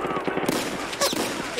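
Rapid gunfire in the Escape from Tarkov video game, a dense burst of repeated shots crackling through the whole short stretch, loud and close with a faint voice underneath.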